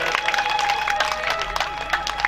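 A crowd at a live Bhagwat katha religious gathering in Jodhpur claps along, with sharp repeated hand claps under a steady voice and background sound.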